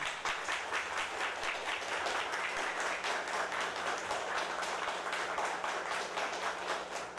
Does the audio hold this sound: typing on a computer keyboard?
no